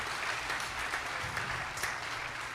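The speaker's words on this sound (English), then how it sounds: "please, one big round of applause for them." A temple gathering at a Sunday program claps for the cooks, a soft, even patter of many hands somewhat distant and quiet throughout, with a faint low murmur underneath.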